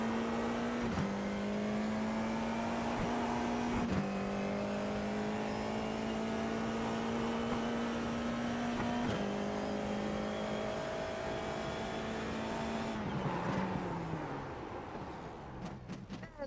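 Race car engine screaming through a race in a racing video game, climbing steadily through the gears with sharp upshifts every few seconds, then lifting off and fading near the end.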